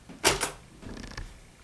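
A typewriter's margin release key is pressed, giving two sharp mechanical clacks in quick succession, close and crisp, followed by a softer clicking shift of the carriage.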